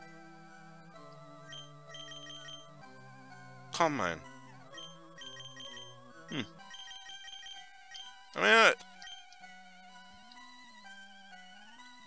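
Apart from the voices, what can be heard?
ringtone-like music in the video game Pokemon Advanced Adventure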